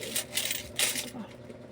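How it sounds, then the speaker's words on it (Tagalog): Small coins, one-peso pieces, are counted by hand, giving a quick run of bright metallic clinks and jingles in short bursts, close and moderately loud over a faint room hum. "Nagbibilang na naman tayo ulit ng barya."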